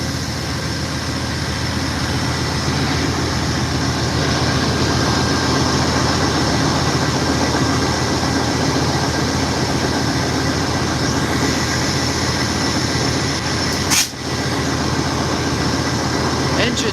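An Amtrak California Zephyr passenger train locomotive stands at Ottumwa, Iowa station, a loud constant rumble and hiss nearby, with a brief sharp clank near the end.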